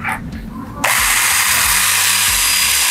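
XENON CDMCS1846 cordless 18V mini chainsaw with a 4-inch bar starting up after a brief quieter moment, then running at a loud, steady high-pitched whine with a rattling chain drone.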